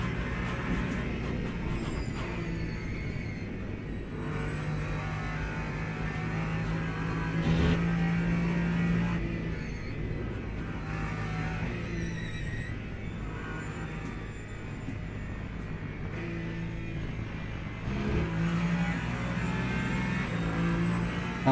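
Race car engine in the Le Mans Ultimate video game drones continuously through a long stretch, rising and falling with gear changes and throttle, with a few brief higher whines over a steady mechanical roar.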